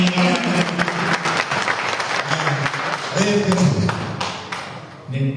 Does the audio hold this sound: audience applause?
yes